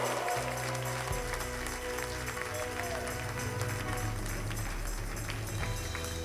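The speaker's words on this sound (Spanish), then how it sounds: "Dale un aplauso al Señor." A church congregation applauds during a worship service, a dense, even wash of clapping that holds steady throughout, with a voice faintly audible underneath.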